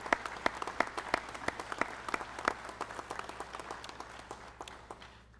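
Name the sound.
audience applause at graduation ceremony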